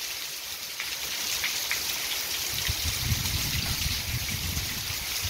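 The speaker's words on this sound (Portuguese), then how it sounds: "uma boa chuva está sendo registrada nesse momento" Heavy rain pours down at night in Amaniutuba, Ceará, drumming on a roof as a dense, steady hiss with heavier patters swelling midway; no one speaks.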